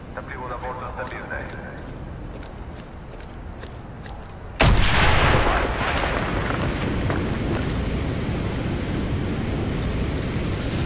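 A sudden loud blast tears a hole in a wall in the Call of Duty Black Ops campaign, erupting partway through and leaving a long rumbling, crackling wash of debris and battle noise after it.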